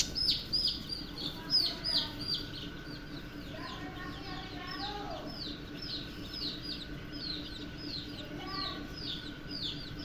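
Hens and a rooster cluck and squawk near the microphone in a backyard coop with young chicks, a burst of loud agitated calls early on settling into steadier clucking, with a faint voice in the background.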